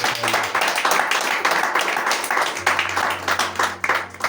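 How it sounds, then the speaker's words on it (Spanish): Church congregation giving a strong round of applause, many hands clapping in a sustained, fairly loud burst with a low hum beneath and some voices mixed in. "Den un fuerte aplauso al Señor"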